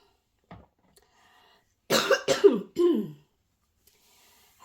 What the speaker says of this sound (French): j'ai une forte grippe en ce moment. Si vous m'entendez tousser, c'est un peu ça.